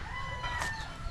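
A chicken outdoors in a drizzly Filipino farmyard, with clucking and crowing calls sounding nearby over steady rain-like background noise.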